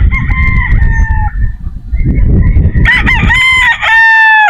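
Several broodstag roosters crow nearby in loud, drawn-out calls that overlap and follow one another, with low farmyard rumble and clucking beneath and no talk.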